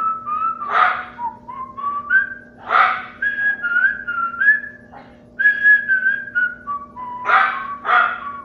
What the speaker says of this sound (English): My dog barking.